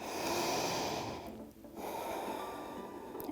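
A single deep yoga breath taken close up, a long airy inhale that dips briefly before a drawn-out exhale, alone with no talk.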